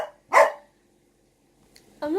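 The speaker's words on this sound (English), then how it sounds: "I'm not really sure why Kelly sounds like a big boy dog" A single loud, deep bark from a large dog rings out close by, then silence before a person starts talking.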